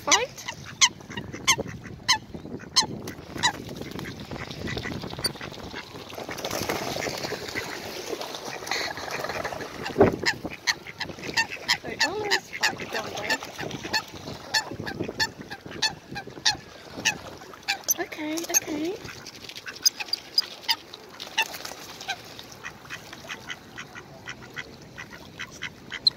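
Ducks and coots jostling for food on the water in Regent's Park, London, a busy, nearby stream of repeated honks, quacks and squabbling calls with splashy bursts throughout.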